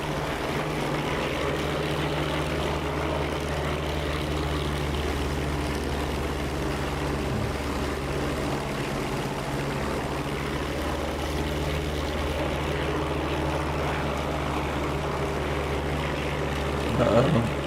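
A P-47 fighter's radial propeller engine drones steadily and loudly in a DCS World War II flight simulation, a constant near hum lasting throughout with no break.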